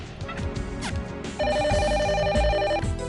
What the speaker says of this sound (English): Nope, phone.